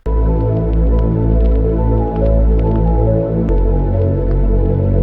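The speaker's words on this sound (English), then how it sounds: "they have a synth bass, and that sounds like this." A deep, sustained synth bass line for a hip hop beat pulses steadily in a loop, loud and continuous with a soft, rounded low end and no voices.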